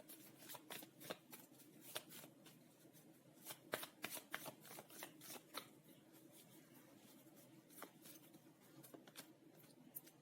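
Tarot cards shuffled up close in a steady stream of crisp, papery flutters and soft slaps, repeating over a low background hum.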